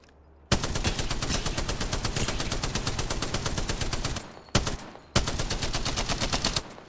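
Rapid automatic gunfire from a weapon in the video game Apex Legends, a long dense burst of loud, evenly spaced shots, a brief pause, a short burst, then another sustained stream of fire.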